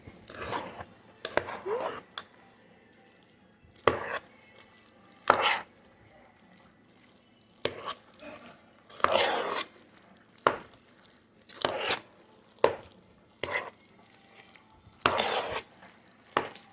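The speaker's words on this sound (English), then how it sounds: "Stir this all up." A spoon scrapes and stirs a thick chicken, cheddar and broccoli casserole mixture in a bowl, giving a series of short broadband scraping strokes with brief pauses between them, close and moderately loud, with no talking.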